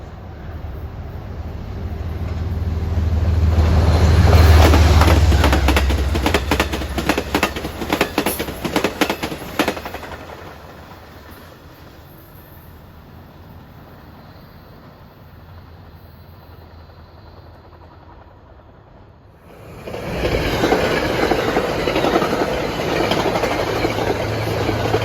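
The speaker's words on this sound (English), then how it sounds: "This is the time of day they start sending equipment trains out of Harmon down to Grand Central for the rush hour." A Metro-North train on the Hudson line passes close by, swelling to a loud roar with rapid clickety-clack of wheels, fading into a quieter rumble, then a second loud wash of rail noise returns near the end.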